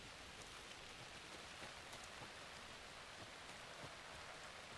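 Rain drums steadily on tarps at a forest campsite in Alan Wake II, a dense, even patter with scattered heavier drops.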